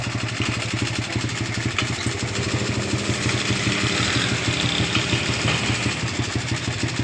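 A motorcycle engine idles at a petrol pump in a small town, a steady, close chugging rumble with an even rapid pulse that holds throughout without talk.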